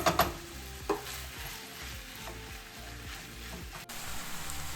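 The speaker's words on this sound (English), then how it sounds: "I'm going to go ahead and add my green pepper and onion to the ground beef and brown it all together" Ground beef browning with green pepper and onion in a pan gives a soft, steady sizzle, opened by a few sharp utensil clanks and broken by occasional stirring scrapes, without voices.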